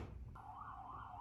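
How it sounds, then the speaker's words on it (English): An emergency vehicle siren sounds on a New York City street, a faint, distant wailing tone that rises in and holds steady after a brief low rumble of traffic. "you cannot live in New York without hearing sirens every day"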